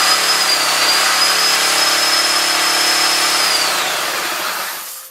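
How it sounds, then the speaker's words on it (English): Small engine cranked over during a magneto ignition test, a loud, steady mechanical whir held near the microphone for several seconds before winding down and cutting off at the end. "And then crank the engine."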